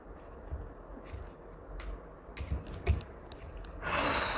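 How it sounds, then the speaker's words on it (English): A tarot card deck being cut and handled, giving a quiet run of scattered card taps, flicks and rustles, close up and alone, ending with a louder sustained shuffle-like swish. "I'm going to cut the deck."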